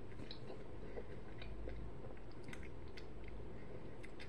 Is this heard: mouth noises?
yes